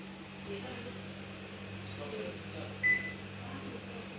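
An oven runs with a steady low hum while baking paneer tikka on an 8-minute timer, with a brief high tone sounding about two-thirds of the way through.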